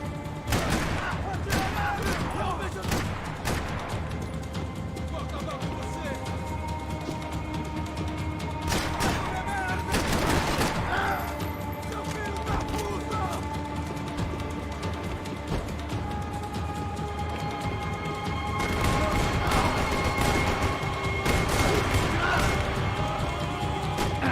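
Gunfire in Max Payne 3 keeps up throughout, a dense stream of rapid shots with heavier crashing volleys around the middle and again near the end.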